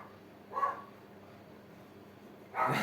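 Two short dog barks, one early and one louder at the end, separated by quiet room tone.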